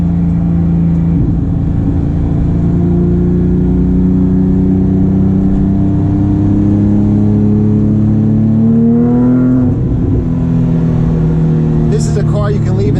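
A Porsche 997.2 GT3 RS with its manual gearbox pulls away on the road, the engine drone rising in pitch and sliding between gears, loud and close from inside the cabin, with a sharp transient near the end.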